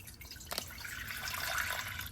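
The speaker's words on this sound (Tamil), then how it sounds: "அதுலயே அப்படியே நம்ம தண்ணி ஊத்திக்கலாம்." Water poured into a pot on a lit stove, a soft continuous trickle and splash, quiet and close, with no talk.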